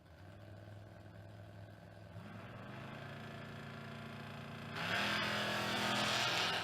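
Race cars, one of them a Camaro, run down a drag strip at a spring racing event, with engine roar building in steps and swelling into a loud, rushing blast as the cars pass, heard from the sidelines.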